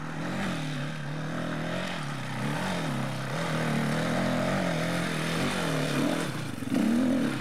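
GPX dirt bike engine climbing a steep corkscrew hill on a trail ride, a loud, close, continuous motor drone that rises and falls with the throttle and revs harder toward the end.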